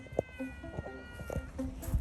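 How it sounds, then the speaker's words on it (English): A pet cat meows a few short times at close range in a quiet home kitchen while someone gets ready to cook, with soft household noise and faint movement between the calls. "I wanted to play a little bit of the video that I took of my cat Atticus"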